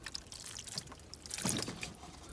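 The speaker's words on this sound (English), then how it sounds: "then you rinse everything off with some clean, clear water." Clean, clear water poured and trickling over a corroded car battery and its terminals, a soft continuous splashing that swells briefly in the middle and stays close and fairly quiet, with no talking.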